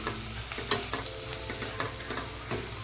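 Onions softening in a pan for a yogurt chicken gravy, frying with a constant close sizzle and frequent clattering strokes of a spatula stirring at an uneven rhythm, with no one speaking.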